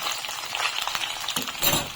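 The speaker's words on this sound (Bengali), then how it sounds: "মাছগুলো আমি কড়া করে ভেজে নেবো, একদম লাল লাল কড়া করে ভেজে নেবো।" Small mourola fish frying hard in hot oil, a steady close sizzle and crackle with a louder burst of spattering near the end.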